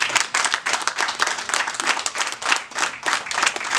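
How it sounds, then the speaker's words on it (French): Congregation at a Eucharistic celebration giving sustained applause, dense crowd clapping that stays steady throughout with no voices over it. "Mettez-vous debout, s'il vous plaît, pour qu'on puisse vous applaudir"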